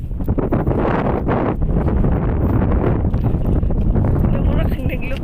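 A strong mountain wind on a family climb at Kilangit hammers the microphone, producing a loud, continuous rumbling roar with gusty surges throughout.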